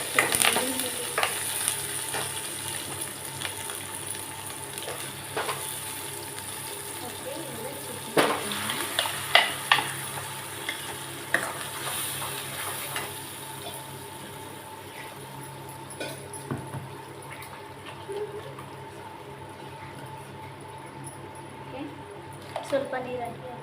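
Curry leaves sizzle and get stirred in a hot pan for a tamarind chutney, a soft continuous frying hiss with intermittent clattering scrapes, close by, while a person talks over much of it.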